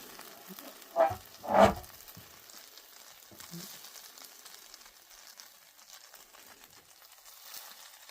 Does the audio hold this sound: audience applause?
no